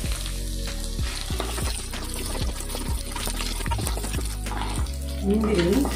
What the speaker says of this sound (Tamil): நிலக்கடலை நல்லா வந்து ஃப்ரை ஆகணும்.